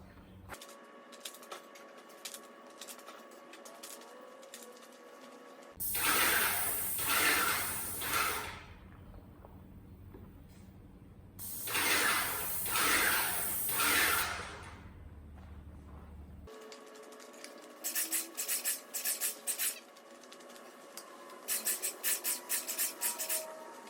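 Harbor Freight airless paint sprayer spraying white coat onto trim boards, two loud sustained hissing bursts of several seconds each, followed by a series of shorter rapid spray pulses, with room noise between.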